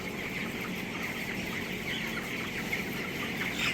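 Twenty-day-old broiler chickens crowd a poultry house, clucking and peeping in a continuous close chatter, with a few louder calls near the end.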